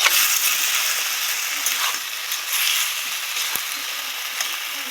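Chicken frying with spices in a pan for a peanut-and-onion chicken curry, giving a steady, close hiss and sizzle throughout with faint scraping; no talk.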